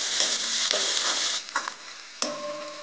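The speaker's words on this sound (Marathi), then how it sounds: "कांदा आपला थोडासा परतून घेऊया." Chopped spring onion greens sizzle in hot oil with cumin in a pan, a steady frying hiss broken by a few clinks and scrapes of a spoon stirring the pan.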